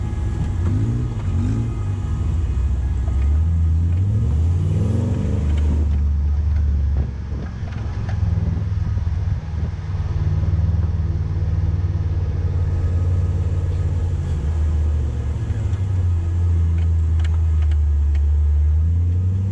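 A 4x4 fitted with a 3UZ V8 engine drives off-road near a quarry paddock, its engine rumbling loud and close with repeated revving swells and a steady heavy drone throughout, no talking.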